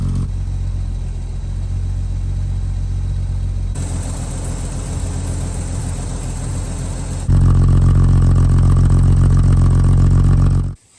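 A 1952 Hudson Hornet with the Twin H setup and a 6-volt system runs its engine, a steady loud rumble that rises in stages, surging louder near the end before cutting off abruptly.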